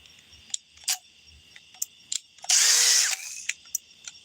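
DeWalt power tool switched on for about half a second of loud, steady whirring, with short clicks and taps before and after it and no talk.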